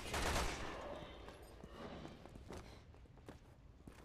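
A burst-fire gun in the video game Resident Evil 6 shoots in quick clustered cracks, with a louder flurry at the start and scattered shots after it. All of it sounds faint and distant.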